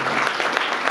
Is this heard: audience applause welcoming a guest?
yes